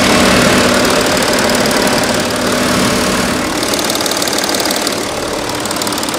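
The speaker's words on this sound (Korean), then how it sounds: "일단 지금 바로 차량 엔진 소리 한번 들려드릴게요." An Audi A8's 3.0-litre six-cylinder diesel engine idles with a steady, dense clatter and rumble, loud and close, holding an even rhythm throughout.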